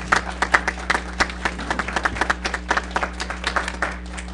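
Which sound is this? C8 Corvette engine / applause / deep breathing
applause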